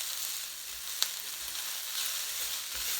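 Mashed potato is stirred in a hot pot, giving a low continuous sizzle under a few soft scrapes and taps of the spoon, close and quiet, with no talking.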